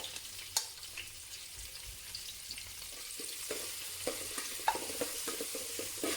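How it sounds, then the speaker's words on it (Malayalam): Ginger, garlic, green chili and curry leaves sauté in a pan for kothu parotta, with a soft continuous sizzle broken by the scrape and tap of stirring close by. "ഇഞ്ചി വെളുത്തുള്ളിയും കൂടെ ഇട്ട് കൊടുക്കുന്നുണ്ട്. അതുപോലെ പച്ചമുളകും വേപ്പിലയും കൂടെ ചേർത്ത് കൊടുക്കുന്നുണ്ട്."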